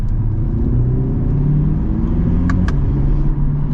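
A 2024 Chevy Corvette Stingray Z51 accelerating in track mode with manual shifting, its engine giving a loud, steady low droning rumble from inside the cabin, with a couple of faint clicks partway through.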